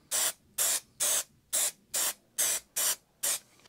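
An aerosol can sprays adhesive inside a VW T5 A and B pillar plastic trim cover being re-covered in fabric: eight short, even hissing bursts in a steady rhythm, close and crisp, with quiet gaps and no talk.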